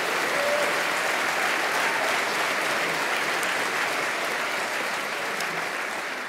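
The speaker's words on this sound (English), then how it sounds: "he definitely deserves that round of applause." A large graduation ceremony audience at Cardiff Metropolitan University gives a round of applause, dense steady clapping filling the hall throughout and tapering slightly at the end.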